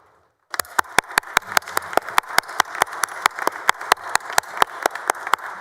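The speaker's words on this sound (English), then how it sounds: "Members, please join me in welcoming the guests from Grayson County with a well-deserved round of applause." A round of applause breaks out in a Senate chamber after a moment of quiet, with a crowd clapping in a fast, steady rhythm that stays loud and even throughout.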